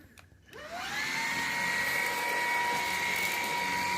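A Xiaomi Mi G10 cordless vacuum cleaner switches on after a few quiet clicks, its motor whining up to speed within half a second and then holding a loud, steady high-pitched whir alone.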